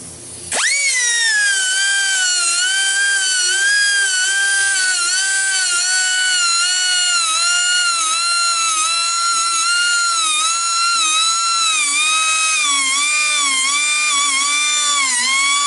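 Blade on a Woodmizer LT15 sawmill being sharpened, a loud, close, sustained high-pitched whine of a grinding tool that starts abruptly and holds steady with slight wavering in pitch.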